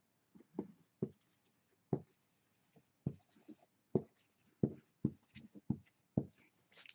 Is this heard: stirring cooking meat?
no